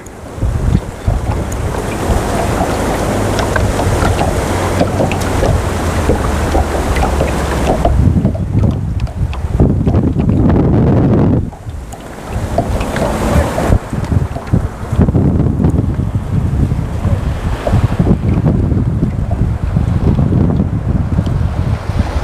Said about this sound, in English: Now the wind's blowing back downstream again.